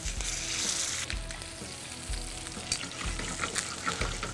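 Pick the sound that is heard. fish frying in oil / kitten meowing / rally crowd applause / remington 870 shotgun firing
fish frying in oil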